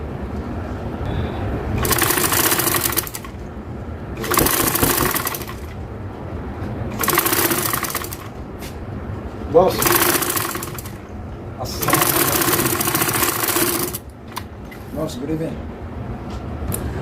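Sewing machine stitching along the edge of a ready-made dress neckline, running in five loud bursts of steady whirring a couple of seconds each, separated by short pauses.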